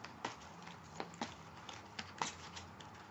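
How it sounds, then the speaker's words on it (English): A deck of oracle cards being shuffled by hand, quiet soft riffles and papery flicks in irregular bursts, close and faint. "As I shuffle the deck"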